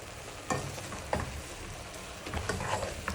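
Goat meat seasoned with black pepper sizzles and fries in a pan while being stirred, with steady frying crackle broken by several scraping stirs of the spoon, close and clear.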